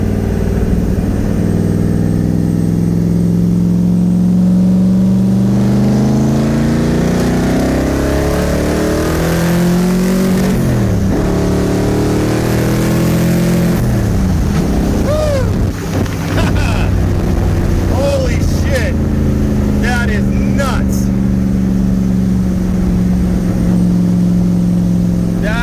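A Nissan 300ZX IMSA widebody with a swapped VK56 twin-turbo engine making about 1000 rwhp accelerates hard from inside the cabin. A loud, steady engine drone climbs and swells in pitch, with wind buffeting throughout and a brief voice.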